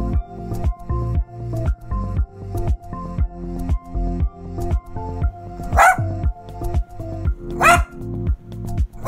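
A pet dog that lives mostly in a kennel barks loudly and close by, a long run of sharp barks in a steady, rapid rhythm with no talking.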